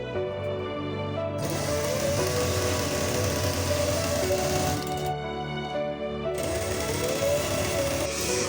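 A sewing machine stitching trouser fabric, giving a steady, rapid mechanical clatter that runs continuously at even volume, close by.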